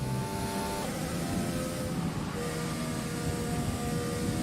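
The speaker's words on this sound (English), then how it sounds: "Listen to this car in 8th gear, man. It's pathetic sounding, isn't it?" A loud, steady racing video game car engine roars at constant high revs in 8th gear, a droning mechanical tone with a buzzy whine and no voices.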